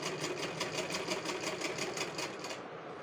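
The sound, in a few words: sewing machine stitching elastic onto fabric top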